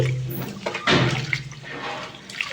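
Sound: washing lentils in water

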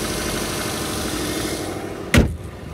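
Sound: car engine idling

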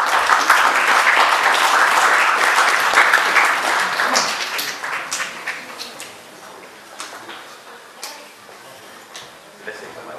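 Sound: applause at a pie-cutting event

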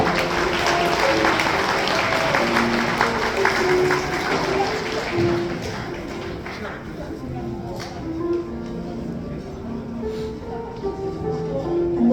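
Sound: applause from wedding guests

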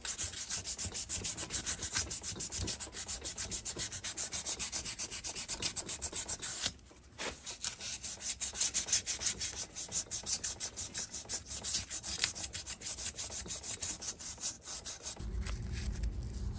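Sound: sanding engine ports with 1000 grit sandpaper

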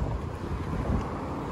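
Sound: wind blowing outdoors

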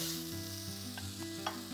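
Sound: stir-frying coriander stalk for nasi goreng

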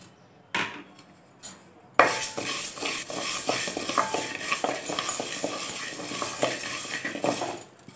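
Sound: toor dal being dry-roasted and stirred in a thick pot

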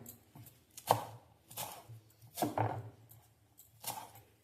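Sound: chopping fresh coriander leaves

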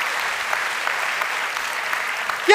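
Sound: audience clapping at a talk show

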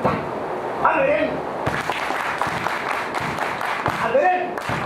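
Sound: audience clapping along in rhythm

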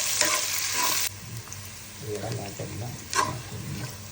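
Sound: green chilies sautéing in a pan

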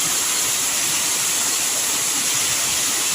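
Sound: waterfall

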